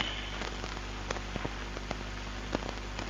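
Steady rain falls without a break, a dense hiss with scattered droplet taps hitting a surface close by, and no voices over it.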